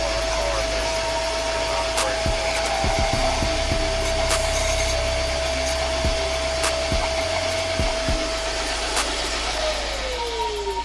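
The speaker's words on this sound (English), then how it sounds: "And I use the shop vac." A shop vac runs continuously, sucking up loose debris during BMW engine repair, a loud steady motor whine with a sustained tone and scattered clicks and knocks of bits rattling into the hose.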